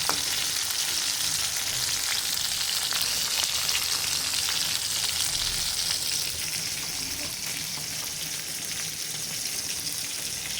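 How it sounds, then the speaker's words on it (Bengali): Hilsa fish frying in a pan, a dense, constant sizzle and spatter that stays loud and even throughout, with no talking. "হালকা করে একটু ভাজা ভাজা দেওয়া লাগবো"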